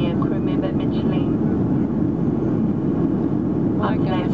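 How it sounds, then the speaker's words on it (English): Inside an airliner cabin, a loud, steady engine roar fills the space during takeoff, with faint voices talking beneath it. "It was such a nice takeoff."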